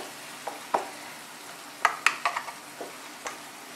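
Maida roasting in a pan over a low flame, a soft low sizzle with several sharp scraping and clinking strokes of a spoon against the pan, spaced irregularly, close and alone.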